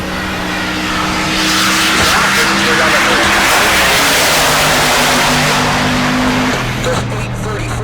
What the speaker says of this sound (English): spools the turbos